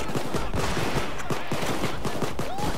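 Dense rapid gunfire during a heist in the video game Payday 2, a busy fusillade of overlapping shots and impacts filling the short stretch at a steady loud level.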